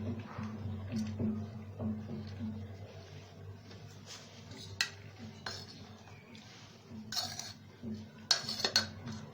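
Metal utensils clink and scrape against a clay pot as matka biryani is served out, a run of light, close taps and scrapes over a steady low hum, with brighter clatters near the end.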